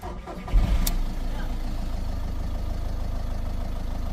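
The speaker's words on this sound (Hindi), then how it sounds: "गाड़ी स्टार्ट हो गई।" A Skoda car engine cranks briefly and catches, then settles into a steady mid-pitched idle rumble, heard up close with no talk.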